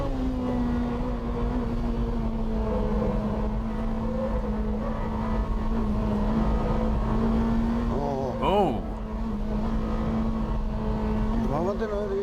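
A BMW M3 drives through a banked corner with a steady, loud engine drone held at constant pitch, briefly broken by two short revving blips. Voices can be heard faintly under the engine.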